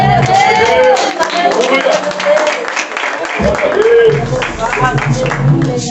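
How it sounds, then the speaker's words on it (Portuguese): Church congregation applauding during a service, a sustained wash of clapping with shouting voices and talk mixed in throughout, fairly loud and close. "É a igreja da glória e aplaude"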